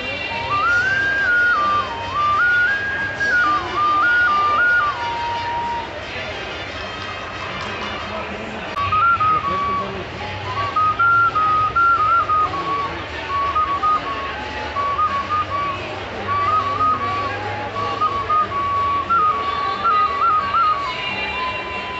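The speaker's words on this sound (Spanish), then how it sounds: "para hacer sonidos son como silbatos" Shrill handmade whistles are blown in repeated short warbling bursts at a crafts fair in Jalisco, rising and dipping in pitch over a busy background of voices and movement.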